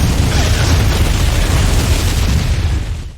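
A ship exploding in a pirate adventure film scene: a loud, sustained rumbling blast with dense low-end roar and crackling debris, holding steady before fading slightly at the end.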